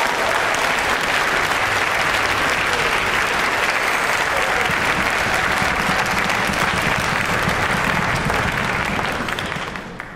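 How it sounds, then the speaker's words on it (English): A school audience applauds at an upper school recitation, sustained, dense clapping from a large crowd that carries evenly throughout and fades at the very end. "Let's give Dr. Bailey another round of applause."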